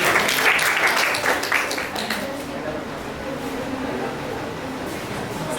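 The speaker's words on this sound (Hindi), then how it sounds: "एक बार चारों टीम अपने लिए तालियां बजाओ" Applause from the audience at a children's quiz competition, a dense wash of clapping that starts loud and eases slightly to a steady level, with voices mixed in.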